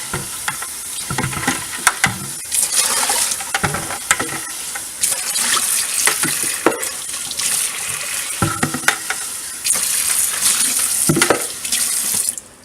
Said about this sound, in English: Dump all that good stuff down the drain.